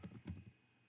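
A few quick keyboard clacks from typing a command on a computer, closely miked, a short burst of keystrokes that fades out within a second.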